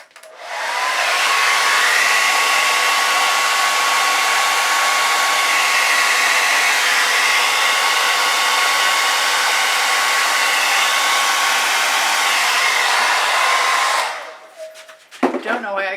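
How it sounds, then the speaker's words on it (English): A hair dryer blows across wet fluid-art acrylic paint on a canvas, a steady loud whooshing hum held for about fourteen seconds before it cuts off and small handling noises follow. "I don't know why I can't get that blow dryer straight."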